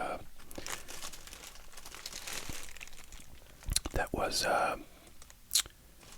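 Plastic Target shopping bag holding a card collection, crinkling and rustling in close bursts near the end, with whispered talk under the earlier part.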